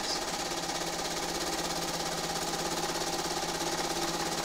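A sewing machine runs continuously while quilting, a steady, rapid mechanical whirring and clatter at even volume with no pauses.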